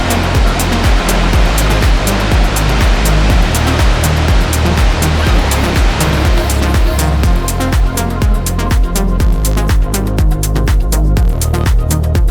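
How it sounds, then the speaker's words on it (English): A waterfall beside a mountainside road in Tibet pours in a loud, constant roaring rush with heavy low rumble, steady throughout with no voices. "we come across a beautiful waterfall"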